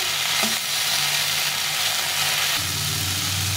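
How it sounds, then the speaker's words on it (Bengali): Tomato sautéing in a pan for a cauliflower fish curry gives a steady, loud, close sizzle, with occasional stirring movements mixed into the hiss throughout. "এটাও একটু বড় টমেটোটা কষিয়ে দেবো।"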